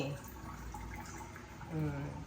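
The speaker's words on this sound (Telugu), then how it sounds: "నీళ్ళన్నీ వెళ్ళిపోతూనే ఉంటాయి కదా కిందకి" Water drains steadily from freshly washed poha in a bowl, a continuous close trickle and splash.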